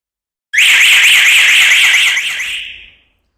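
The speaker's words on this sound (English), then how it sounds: "I am going to give an alarm." A water leak detection panel alarm sounds a loud, warbling electronic tone, steady for about two seconds before fading out as it is muted.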